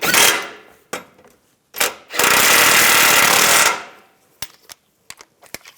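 A power tool tightening bolts under a GMC Yukon XL gives a short burst, two brief hits, then a sustained loud buzzing run of over a second, followed by several sharp metallic clicks, all close.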